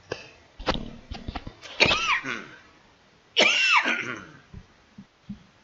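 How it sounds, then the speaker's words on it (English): Several harsh coughs burst out close by, a couple of strong hacking coughs separated by quieter throat noises and breaths. "Sorry about that, folks. I didn't mean to cough in your ears."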